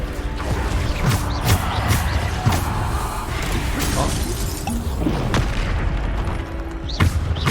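Explosive Bombarda spell blasts in Hogwarts Legacy combat, several heavy booms and crashes punctuating a busy, continuous battle din, with faint voices mixed in.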